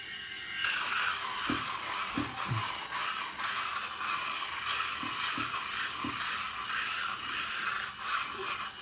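Philips Norelco Head Shaver Pro 7000 shaving a soaped head: a continuous close electric buzz and hiss of the rotary heads throughout, with occasional low bumps as the shaver moves across the scalp.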